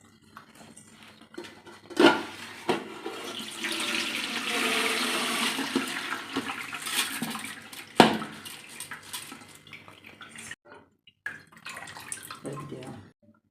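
Water draining off rice soaked for two hours, for making athirasam, a broad running and splashing wash with a few sharp clatters of a vessel, heard close and fairly steady.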